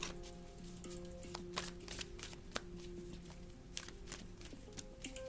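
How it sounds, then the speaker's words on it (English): Rapid riffling of a tarot deck being shuffled, a steady flurry of soft papery flicks with a few sharper snaps, close and fairly quiet, no talking. "I'm just going to do a little shuffle this time."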